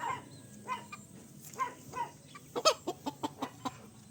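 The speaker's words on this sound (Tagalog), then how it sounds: "may mga manok nakakulong" Caged chickens cluck and chatter in a series of short, sharp calls, fairly close, with a steady low background hum.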